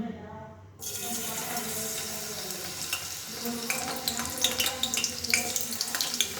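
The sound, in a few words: garlic frying in hot oil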